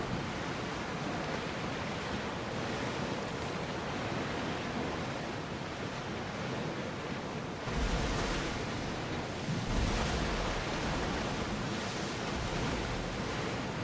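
A ship sailing through ocean waves in Assassin's Creed Odyssey: a constant broad wash of surf and rushing water, fairly quiet and steady, swelling slightly toward the end.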